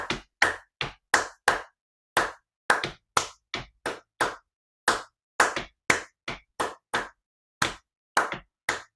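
A single person claims out a syncopated rhythm with bare hands, crisp sharp claps in an uneven off-beat pattern, close and dry with silence between hits and no talking.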